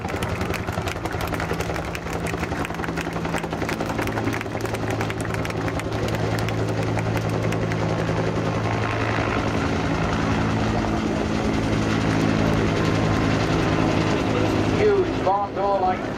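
Huey helicopter powered by a Lycoming T-53 turboshaft flying at the Blackpool airshow, a steady, continuous engine and rotor drone that holds loud throughout with a faint whine near the end.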